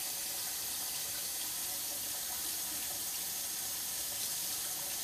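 Water splashes and runs in a kitchen sink as a bird bathes, a steady close hiss of flowing water with no voices.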